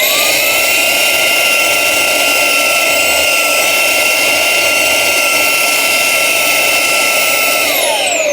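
A Ryobi 18V HP cordless stick vacuum runs steadily with a loud, close, high-pitched motor whine and rushing airflow for the whole stretch, with no one talking.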